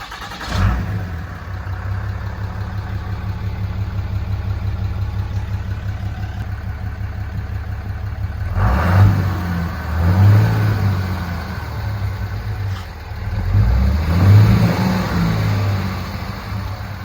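Ram 2500HD Cummins diesel truck with a new exhaust, idling with a deep, steady rumble and then revved three times in short swells, heard close with no talk.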